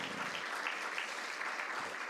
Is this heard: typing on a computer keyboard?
no